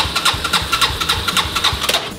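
A motorcycle engine is cranked repeatedly in an attempt to start it, giving a rhythmic series of close, loud starter pulses with a steady whine and no sign of the engine catching.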